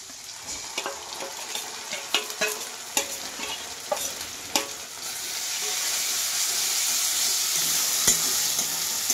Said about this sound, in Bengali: এইভাবে আমি কিছুক্ষণ মশলাটাকে ভাজবো।